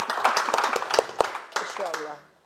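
At a comedy roast honoring a dangdut legend, scattered audience claps and sharp individual hand slaps ring out amid cheering voices, thinning and fading away by the end.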